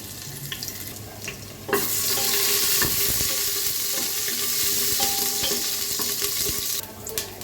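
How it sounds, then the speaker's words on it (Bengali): Chopped onion with cardamom and cinnamon hits hot oil in a pan and bursts into a loud, steady sizzle. The sizzle holds bright and close for several seconds, with a few stirring scrapes, then quietens briefly near the end. "পেঁয়াজ কুচি দিয়ে দিব আর দিয়ে দিব হচ্ছে গরম মশলা এলাচ আর হচ্ছে দারচিনি"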